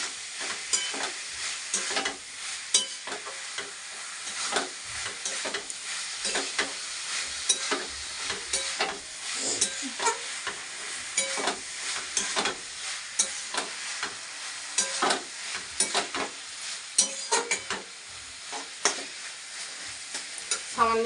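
Fried potato pieces stirred around a hot pan: quick scraping and clinking strokes come in dense, uneven bursts over a continuous sizzle, close and steady for the full length, with nobody talking.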